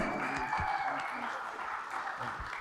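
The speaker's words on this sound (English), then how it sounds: "Round of applause, if you will, please." Wedding guests at a Lake Tahoe reception give the father of the bride a soft, somewhat distant round of applause, with voices murmuring over the clapping.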